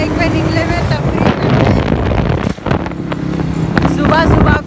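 A motorcycle rides on a road in Pakistan in the morning, its steady engine drone heard from on board under heavy wind buffeting, with a brief dip midway and voices faintly present.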